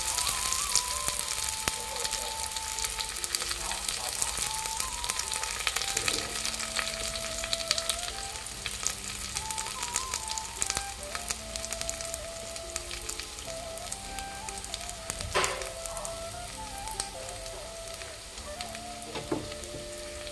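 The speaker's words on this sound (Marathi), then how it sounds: "तेल चांगला गरम झाला की नंतर त्याच्यात मी बारीक चिरलेलो कांदो घालून घेतोय, कढीपत्तो घालतोय" Finely chopped onion and curry leaves sizzle steadily in hot oil for a Malvani egg curry, a close, continuous crackling fry with occasional stirring and no talk.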